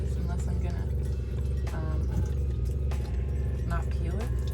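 A camper van's onboard water pump runs steadily as a constant low drone and whir throughout, with faint clinks and a person talking over it.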